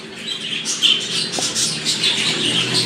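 A baby budgerigar chirps in short, high, bright calls as it is placed into a wooden nest box lined with pine shavings, the tweets close and fairly loud with faint handling noise beneath.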